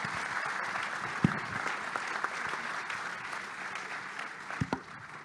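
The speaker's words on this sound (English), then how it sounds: "please a hand of applause for our panelists" An audience at a financial summit's opening panel applauds the panelists with steady, continuous clapping at moderate distance, with a few sharper claps standing out.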